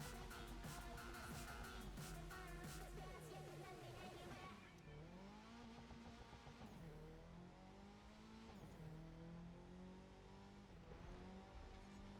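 A car driven in The Crew 2 racing game revs hard with a steady engine drone, climbing in pitch, dropping at each gear change and rising again, loud and close throughout.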